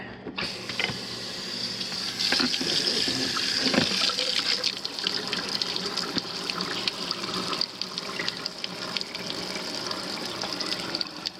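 Steady gushing water runs continuously, loud and close, pouring out of a dishwasher's control button area, with no voices.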